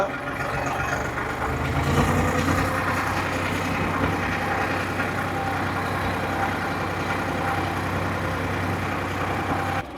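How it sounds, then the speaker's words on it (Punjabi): A Mahindra tractor pulling a super seeder drones steadily in a field near the India-Pakistan border, a continuous low engine rumble with rattling machinery, loud and close throughout with no pause. "ਟਰੈਕਟਰ ਲੈ ਕੇ ਆਏ ਹਿੰਦਰਾ ਮਹਿੰਦਰਾ ਨਾਲ ਸੁਪਰ ਸੀਟਰ ਜਿਹੜਾ ਇੱਧਰ ਚੱਲਦਾ"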